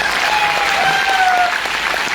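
An audience bursts into steady, dense applause at a gathering in Uttar Pradesh, loud and close, with clapping sustained throughout and no pauses.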